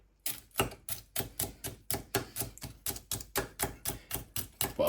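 A sharp kitchen knife chopping food on a cutting board, a fast even run of crisp, close knocks that repeats steadily without pause and with no talking.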